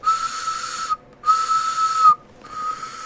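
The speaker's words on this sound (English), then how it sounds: "I have an Oscar Mayer weenie whistle." Three breathy, airy blasts from an Oscar Mayer weenie toy whistle, each about a second long with short gaps between them, close and moderately loud.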